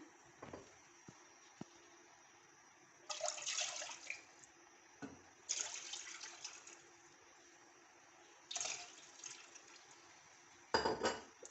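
Milk, already boiled, pours in a few separate bursts into a metal pan, with brief clinks and quiet pauses in between.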